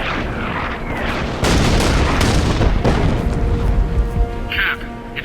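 An artillery barrage opens fire in Captain America: Super Soldier, heavy booms and rumbling blasts landing in a close, loud cluster after a short lead-in, with sharper cracks scattered through the roar.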